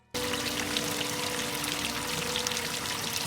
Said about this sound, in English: What is that running water noise?